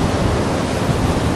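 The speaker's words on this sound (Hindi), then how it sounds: "एक टैंक भी है जो कि चश्मे का पानी है, यहाँ से बहता है पत्थर के नीचे से" Spring water flows from under stones into a canal after rains, giving a loud, continuous broadband rush with no pauses and no voices.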